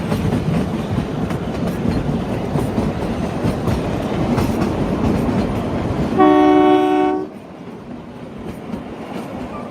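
The Himalayan Queen train 52455 on the Kalka to Shimla line rumbles loudly with clattering wheels, then a sustained horn blast sounds for about a second before the noise drops to a quieter rolling hum.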